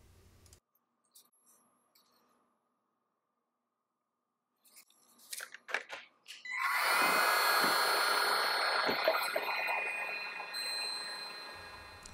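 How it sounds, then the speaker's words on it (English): A new DeWalt 20-volt cordless heat gun clicks and rattles as it is handled, then starts up into a loud, steady whirring blower roar that runs continuously up close for several seconds. "I'm going to be test driving my DeWalt 20-volt heat gun here to see how well it works"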